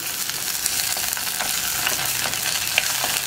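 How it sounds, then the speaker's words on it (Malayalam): Curry leaves frying in hot oil in a pan for a Kerala mango curry, giving a steady, close crackling sizzle throughout with a few sharper pops and no talking. "ഇനി നമുക്കിതിലേക്ക് കുറച്ച് കറിവേപ്പില ചേർത്ത് കൊടുക്കാം"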